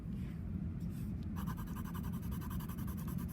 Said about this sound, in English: I need to go sharpen my pencil